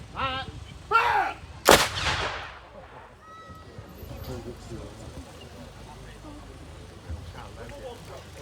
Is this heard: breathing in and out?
no